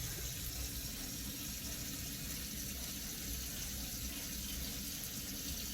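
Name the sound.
water rinsing shampoo out of hair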